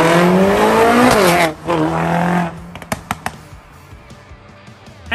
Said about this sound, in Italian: sentiremo lo scoppiettio partire dal nostro scarico, come ad esempio potete sentire in questo video